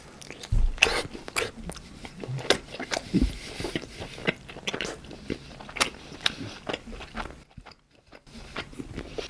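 Fried side dishes from BHC, such as cheese balls, hot dog, menbosha and cheese sticks, bitten and chewed close to the mic, with repeated crisp crunches and wet chewing in an uneven rhythm and a brief quiet gap near the end.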